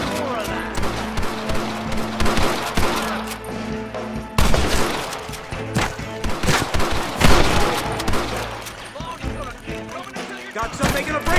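Rapid gunfire in a Red Dead Redemption shootout, with repeated sharp shots and bursts crackling through a busy, noisy battle mix while voices shout over the action.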